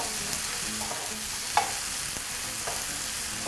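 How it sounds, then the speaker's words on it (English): Cherry tomatoes and vegetables sautéing over high heat in a pan, a steady sizzle with a few light clinks and stirring scrapes scattered through it, close by and without talk. "And all you want to do now is just saute that in high heat."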